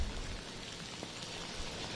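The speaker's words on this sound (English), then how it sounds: "we're seeing the heaviest rain we've seen all morning" Heavy rain from Hurricane Ian pours steadily in Melbourne, Florida, a dense, even hiss of falling water with no voices, fairly faint and constant throughout.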